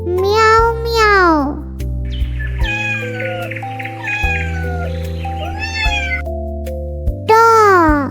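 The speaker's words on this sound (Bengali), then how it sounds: "বিড়াল ডাকে মিয়াও মিয়াও।" Cat meows repeat several times over a steady musical backing, each call rising and falling in a drawn-out whine, with a child-like voice singing in between in a Bengali alphabet rhyme.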